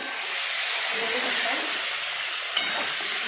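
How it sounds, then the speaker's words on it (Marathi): Eggs frying in a little oil give a steady, close sizzle and hiss throughout, with one brief sharp crackle partway through. "आपण ही अंडी फक्त थोडीशी तेलातून फ्राय करून काढणार आहोत"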